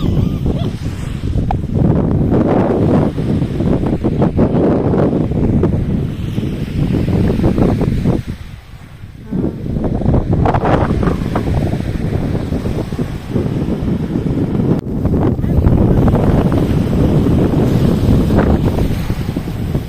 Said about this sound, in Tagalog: Mahangin-hangin po.